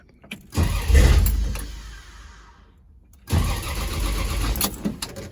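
A 1966 Dodge Dart GT engine cranks and catches on a cold start, then drops away and fires again into a rough, fairly close idle with revving bursts.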